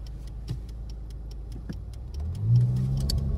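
Road traffic heard from inside a Walmart delivery truck: a steady low engine rumble that swells as a vehicle accelerates, with faint ticking in the cab.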